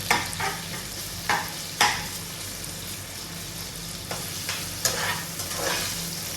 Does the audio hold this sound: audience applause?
no